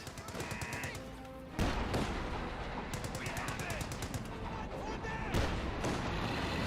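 Bursts of .50 cal machine gun fire rattle in rapid rhythmic strings during a Company of Heroes 2 battle, with several loud volleys separated by short pauses over background battle noise.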